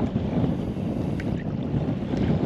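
A fishing boat out on Baffin Bay while catching speckled trout, with strong wind roaring steadily across the microphone for the whole stretch, a constant low buffeting rumble and no talk.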